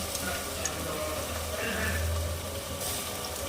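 Prawn biryani masala sautéing in a pan, a steady low sizzle and frying hiss running continuously throughout, fairly quiet and close with no talking.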